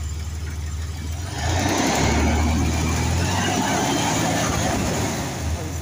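A nearby Dodge Dakota pickup truck engine with a damaged water pump idles, then revs up and holds a louder, rougher roar for a few seconds before easing slightly.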